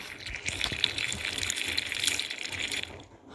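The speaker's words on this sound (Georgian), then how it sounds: "რა ხმა, ბიჭო, წყალი მოდის." Water gushes in a continuous, fairly soft rushing wash that holds steady and then eases off near the end.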